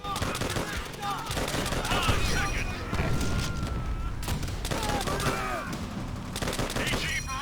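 Rapid gunfire bursts from weapons in the World War II shooter Call of Duty: World at War crackle continuously, dense overlapping shots with layered battlefield effects and no clear speech.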